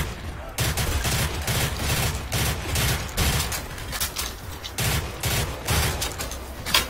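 Rapid gunfire in Call of Duty: World at War custom zombies on the Kino map, with many shots fired in quick succession, loud and near, in dense bursts that run with only brief gaps and no one speaking.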